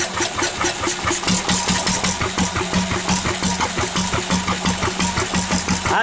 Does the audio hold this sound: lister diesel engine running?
yes